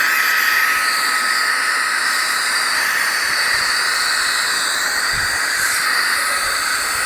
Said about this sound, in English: we're just blowing all of the liquid out of the switch gear, the nooks and crannies